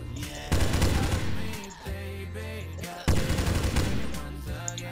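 Weapons fire in the mobile zombie shooter Zombie: Whispers of the Dead comes in loud rapid bursts, with a pause and a lower droning tone between volleys before another dense burst of shots.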